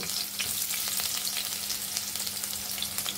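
Chopped onions hit about a teaspoon of hot white oil and fry with a bright, even crackling sizzle, close and steady throughout, with light stirring pops.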